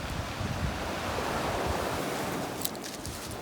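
Sea waves wash onto a beach in a continuous rushing hiss with soft surges, with wind buffeting the microphone and no voices.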